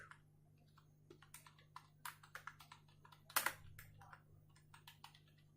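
Commands are typed on a computer keyboard, a quiet run of irregular close key clicks with one louder cluster of taps midway, no talking.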